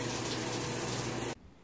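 Steady rush of running water from a shower, a continuous hiss at close range that cuts off abruptly near the end and leaves faint room noise.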